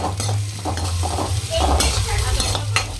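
Chopped onions and chillies sizzle in hot oil while a spoon stirs and scrapes the pan, a steady close frying hiss with repeated stirring clicks.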